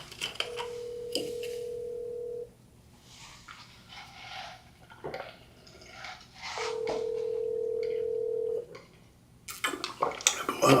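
A telephone call is placed: a steady dial or ring tone sounds twice in long stretches, with faint room noise and a few clatters in between.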